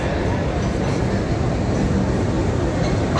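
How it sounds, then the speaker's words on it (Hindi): A decorated GEU 20 diesel locomotive hauling the Green Line Express arrives at Lahore with a loud, steady low rumble and rolling rail noise throughout, crowd voices mixed in. "आप देख सकते हैं लोकोमोटिव बहुत ही खूबसूरत अंदाज के साथ एंट्री"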